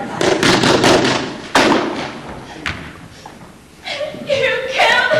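Sharp bangs burst out during a play rehearsal, a staged gunshot effect, with several loud cracks early on followed by another hit, then raised voices calling out afterward.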